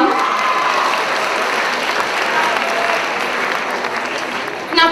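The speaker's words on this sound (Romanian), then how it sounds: "Să o aplaudăm!" A school freshmen's ball audience claps in a sustained, loud burst of applause that stays even the whole time, ending with a brief louder knock or clatter at the very end.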